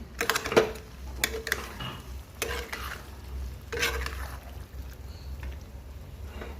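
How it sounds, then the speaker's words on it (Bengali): Boiled jackfruit and potato with shrimp being stirred in a pan, a close, continuous scraping and sloshing with irregular spatula strokes and a light sizzle, no voices. "এঁচোড় আর আলু সিদ্ধ করা ছিল, ভালো করে কষে মিশিয়ে নেব"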